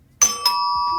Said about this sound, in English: I did not know that we have a doorbell.